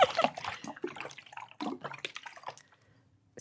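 Smartwater bottled water swished and swilled around inside a mouth, giving wet sloshing and gurgling bursts up close for about two and a half seconds before fading to quiet.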